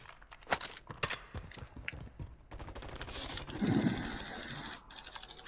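Gunfire in Call of Duty, a few sharp distant shots early followed by a denser burst of rapid fire, no voices.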